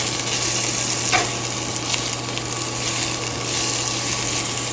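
Chopped fresh garlic fries in a pan with a dense, even sizzle and a faint steady hum beneath, with a single knock early on and no talking.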